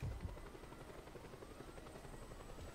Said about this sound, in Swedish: Helikoptern.